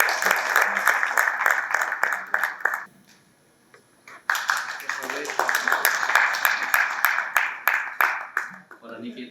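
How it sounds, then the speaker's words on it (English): An audience at a chapter award celebration and Union Budget seminar claps loudly after the invitation to the chairperson's welcome speech. The applause is dense and close, breaks off briefly into near silence, then resumes strongly before tapering, with voices mixed in. "that's the grand cue for the audience to clap"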